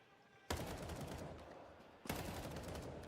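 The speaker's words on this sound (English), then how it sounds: "Clean rifle work, DGT." Rifle gunfire in a competitive video game match, two sudden loud reports about a second and a half apart, each followed by sustained rattling and reverberation.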